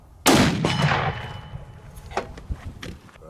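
A single loud 300 Win Mag shot from an Accuracy International Mk13 sniper rifle, a sharp close crack followed by a rolling echo and a few small clicks and knocks afterward.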